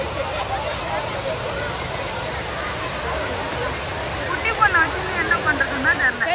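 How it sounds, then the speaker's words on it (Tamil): Steady broadband roar of heavy water flow at Kodiveri waterfall, loud and continuous throughout, with crowd babble mixed in and brief louder splashes near the end. "தண்ணி நிறைய வந்துகிட்டு இருக்கு"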